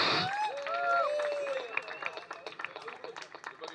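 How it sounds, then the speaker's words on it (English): Applause from the audience at a photography awards ceremony, clapping building up under a voice and tonal sounds, then continuing as a busy patter of hands. "Loud round of applause"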